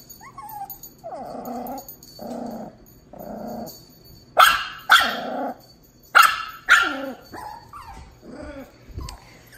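Miniature Pinscher meeting a Dachshund indoors: low growls and whines build into several sharp, loud barks in quick bursts, close by with no talking.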